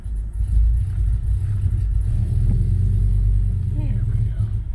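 An Audi 4000 Quattro engine, its CIS fuel injection just rebuilt, runs with a low steady rumble close by, with a brief rev partway through. A voice is heard over it at times.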